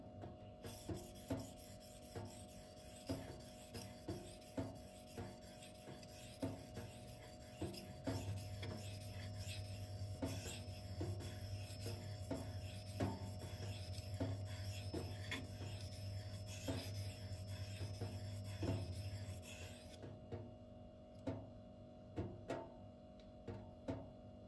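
A Twosun TS264 folding knife with M390 steel is sharpened, steady repeated rasping strokes of blade against a stone, close and quiet over a constant electrical hum.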